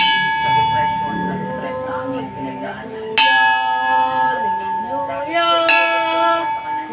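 A holy bell rings out loud and resonant, struck twice with sustained metallic ringing tones that linger and shift between strikes, under a tonal backdrop during a religious meditation gathering.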